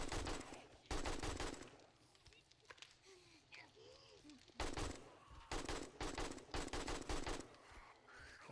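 Gunfire in the zombie survival game 7 Days to Die: several loud bursts of rapid shots in clusters, with quieter stretches between holding faint creature sounds and game noise.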